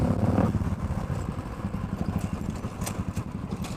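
A Royal Enfield Thunderbird 350 motorcycle putters along in a steady low thumping rhythm while being ridden, the engine close and fairly loud with no talk over it.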